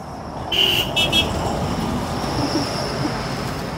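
Outdoors on a Bermuda roadside, a bus passes by with a steady rumble of engine and road noise, and a short pair of horn toots sounds near the start.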